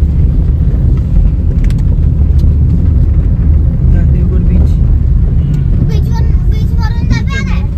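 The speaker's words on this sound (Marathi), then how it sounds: "आमचे ड्रायव्हर गाडी चालवतात" A car being driven along a coastal road, a loud, constant low engine and road rumble filling the whole stretch, with faint voices emerging toward the end.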